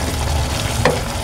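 Beef caldereta with melting queso de bola bubbles and simmers in a pot, a steady close sizzling bubble with a brief stir near the end.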